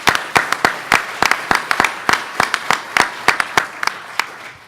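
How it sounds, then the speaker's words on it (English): A crowd claps in a burst of applause, sharp hand claps rattling quickly and unevenly for a few seconds, close and loud. "let's give Brandon a round of applause"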